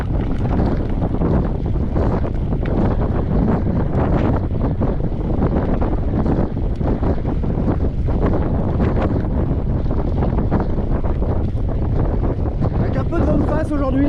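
Headwind buffeting a microphone while cycling a triathlon bike course at Cournon, a loud, continuous rumbling roar with gusty fluctuations that never lets up.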